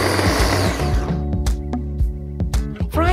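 A blender grinds garlic, chilies, onion, shrimp paste and water into sambal paste; the motor whines loudly, winds down after about a second, then gives way to scattered clicks and knocks.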